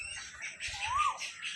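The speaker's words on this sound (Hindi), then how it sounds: "ऊपर परिंदे, कोयल कुकू बोल रही है" An Asian koel calls in a mango garden, giving a single rising-and-falling whistled note over a faint background hiss.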